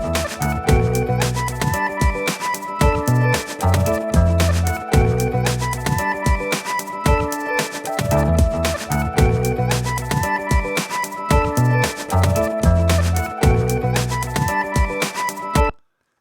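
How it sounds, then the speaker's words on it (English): Live bass guitar plays through a gate, a UAD 1176 compressor and Waves JJP bass processing, punchy repeated notes in a steady groove over a full backing track, loud and continuous for the whole stretch. "I recorded just playing live bass to this"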